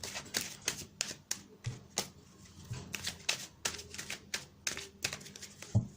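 Tarot cards riffled and shuffled by hand, giving a quick run of crisp papery flicks and taps with short pauses, close up and alone.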